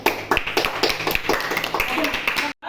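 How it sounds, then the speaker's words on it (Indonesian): Classroom applause for a student group, a quick run of claps blending together, with voices mixed in, then a sudden cut to silence at the close. "sekarang kita berikan tepuk tangan untuk kelompok 2"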